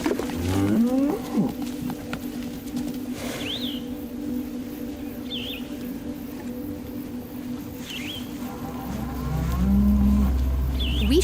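Cattle moo in a farm setting, with a couple of low bellows near the start and one more toward the end, over steady low background noise and a few faint higher calls.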